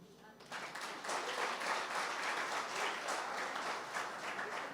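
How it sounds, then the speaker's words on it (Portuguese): An audience at a church family conference breaks into applause after a short, quieter lead-in, then claps in a steady, full burst at moderate volume, with some speech audible under the clapping. "Você pode aplaudir?"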